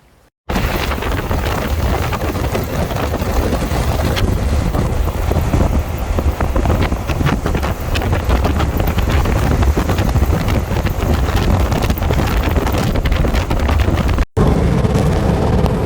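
A car drives along a motorway from Seville toward Tarifa with constant loud wind rush and road roar filling the whole stretch, broken only by a brief dropout near the end.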